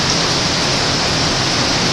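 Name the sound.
hurricane rain during Hurricane Katrina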